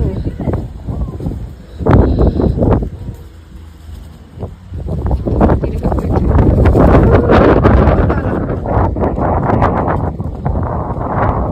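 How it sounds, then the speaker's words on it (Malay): Strong night wind in the Genting Highlands buffets the microphone in loud, shifting gusts, with people talking throughout. "Sini lagi kuat angin dia."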